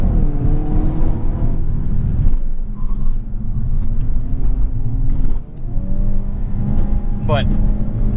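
A 2022 Hyundai Kona N driven hard in its most aggressive drive mode, engine droning loud and steady from inside the cabin with rising revs near the end.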